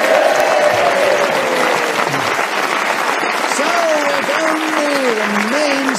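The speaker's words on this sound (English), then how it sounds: "A round of applause for him, please." Studio audience at a panel game show applauds the winner, a steady dense wash of clapping for the full six seconds, with a voice talking over it partway through.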